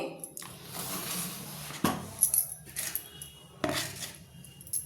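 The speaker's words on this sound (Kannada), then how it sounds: "ಇಷ್ಟು ಬೆಳ್ಳಿ ಸಾಮಾನನ್ನು ನಾನು ಯಾವ ರೀತಿ ತೊಳಿತೀನಿ ಅಂತ ತೋರಿಸ್ತೀನಿ" Silver idols and utensils clink and clatter against each other as they are handled, with bursts of metallic jingling and a few sharp knocks, close and moderately loud.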